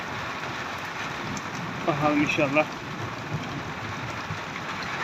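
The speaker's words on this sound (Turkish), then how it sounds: "Çok güzel ve fena bir yağış oluyor." Heavy, windy hail and rain storm on a highland pasture, a dense steady roar of drumming precipitation filling the scene, with someone speaking briefly over it midway.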